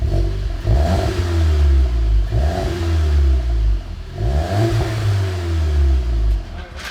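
A car engine fitted with a new downpipe is revved repeatedly, three rising throaty bursts of exhaust that fall back to idle between them, loud and close, with no talk.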